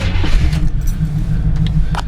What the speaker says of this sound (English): Starts up and runs pretty good on a cold start.